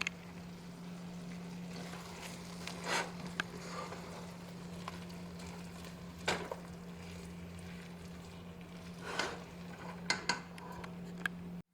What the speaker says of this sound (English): I can't stir this with my left hand